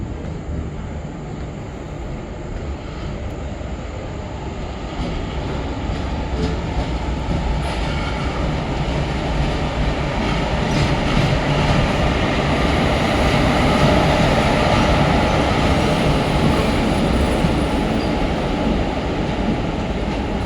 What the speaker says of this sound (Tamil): மக்களே பாருங்கள் கியூஎல்என் எக்ஸ்பிரஸ் செங்கோட்டைக்குள்ளே வந்துக்கிட்டு இருக்குது